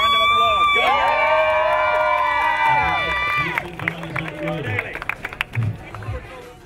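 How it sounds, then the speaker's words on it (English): Crowd of families and children at a Team Hope race event bursting into cheering and shouting, then breaking into scattered clapping that thins out toward the end, loud and close with voices mixed throughout. "Right, round of applause."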